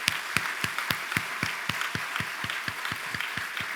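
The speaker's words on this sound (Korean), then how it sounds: "크게 박수 한번 해주시기 바랍니다" Applause from a church congregation as flowers are presented at a pastor's installation service, sounding as a sparse, rhythmic clapping of a few hands with distinct sharp claps recurring steadily over a soft wash of background clapping.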